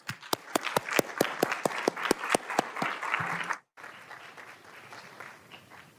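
A luncheon audience on Capitol Hill applauds a panel: a few sharp, close, rhythmic hand claps lead into broader clapping, then a brief cut and a softer, more distant wash of applause.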